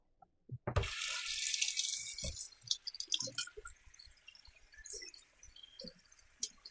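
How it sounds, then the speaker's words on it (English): Cooked macaroni being drained at a kitchen sink: a sudden rush of water pours out and splashes against the basin, then fades into scattered drips and trickles. "Our pasta is ready and we're going to drain it."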